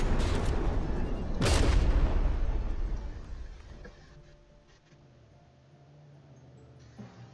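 Artillery shells fire in the naval combat game From the Depths, a loud boom bursting early and then rumbling as it fades into a low, distant hum with faint later thuds.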